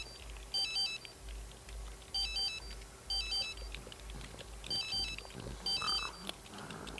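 Telephone ringing in the video game The Sims 3, a bright electronic ringtone sounding in five evenly spaced bursts over a soft, low background hum.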